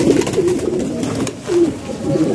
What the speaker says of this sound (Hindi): काफ़ी सारे कबूतर घूम रहे हैं